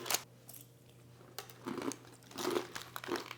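Several sharp, crisp crunches of bites into dry, brittle cinnamon apple chips come in uneven bursts close to the mic in a quiet room.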